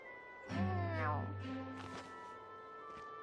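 A cat meowing in the video game Tales of Xillia 2, a single drawn-out meow followed by fainter mewing, with a low tonal background.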